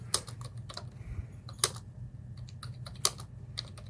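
Keys clatter on a computer keyboard in short, irregular bursts of close clicks, with a few sharper, louder strikes standing out over a low background hum.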